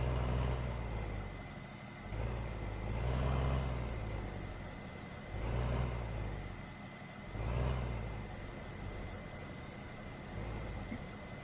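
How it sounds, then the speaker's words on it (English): A truck reversing in the Farming Simulator 15 video game, its engine droning steadily with rising and falling swells roughly every two seconds and a faint constant whine above, continuous with no voices. "See if we can back our truck up to it."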